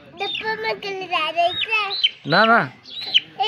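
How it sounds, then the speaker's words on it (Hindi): A young chicken chick gives a run of high, thin peeps and chirps, close and fairly loud. Childish voices speak over and between the calls. "ये तो मुर्गी का बच्चा है"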